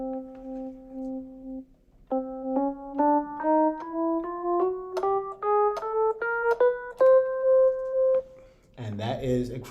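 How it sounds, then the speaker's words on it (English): Piano playing a chromatic scale that starts from C and climbs in even half-step notes, each key struck and held clearly, rising steadily until a final sustained note and a brief noisy shuffle at the end. "a chromatic scale is the only scale that sounds like this"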